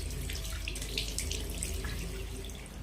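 Tap water runs steadily into a sink during face washing, a continuous close splashing hiss with no voices.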